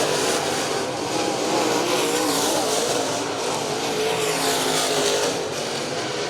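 Race cars roar continuously at Virginia Motor Speedway, a steady loud engine drone with shifting pitch as the pack runs into a turn, under a crowd-like wash of noise.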